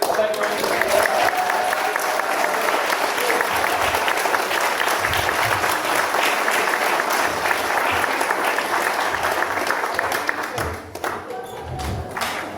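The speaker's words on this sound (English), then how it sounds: "I think we all owe Karen a big round of applause" An audience at an anniversary pageant gives a loud, sustained round of applause, dense and even for most of the stretch before thinning out near the end, with faint voices mixed in.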